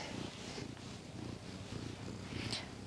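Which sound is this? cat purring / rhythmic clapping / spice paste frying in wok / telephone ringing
cat purring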